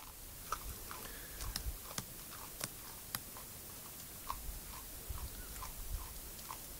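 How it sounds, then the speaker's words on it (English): A swamp wallaby and white-winged choughs eat biscuits: small crunching and nibbling sounds tick irregularly against a steady outdoor hiss, sharp little bites scattered throughout with no voices. "Swamp wallaby and white winged choughs eating biscuits."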